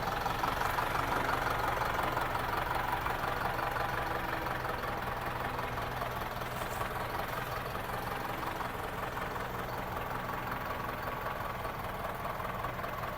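A combine harvester engine drones and knocks steadily at a constant level while harvesting maize in a field after rain, unbroken and fairly near, with no voices.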